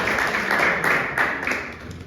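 A church congregation at a Hindi Sunday service applauds, giving a steady wash of many hands clapping at moderate loudness for a couple of seconds, with no speech over it.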